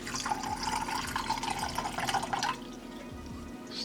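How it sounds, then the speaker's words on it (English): Water poured into a Russian military ration drink mix, a close, steady trickling splash for about two and a half seconds, then stopping into a quiet room tone. "Let's add a little bit of water."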